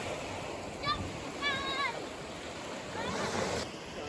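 Waves breaking and surging on a black sand beach at Ambrym Island, Vanuatu, a steady rushing wash with swells of surf, under bits of nearby talk and bird chirps.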